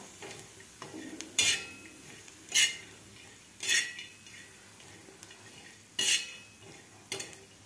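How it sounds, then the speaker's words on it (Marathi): Grated coconut dry-roasting in a pan with coriander seeds and roasted gram, a spatula scraping and stirring in about six distinct close strokes spaced a second or so apart over a quiet background, with no one talking. "ते आपल्याला ह्या धन्याबरोबर आणि फुटाण्याबरोबर भाजून घ्यायचं आहे"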